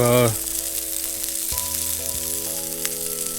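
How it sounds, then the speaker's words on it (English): Crayfish sizzle steadily in a frying pan of rendered beef fat, a close, constant crackling fry with a brief clink near the start. "rendered it down in the frying pan, cooking some crayfish"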